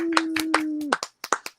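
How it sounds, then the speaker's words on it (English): A small comedy workshop audience gives scattered, sparse claps, a few distinct hand smacks close up, while a voice holds a long whooping cheer over the first half. "another round of applause for me"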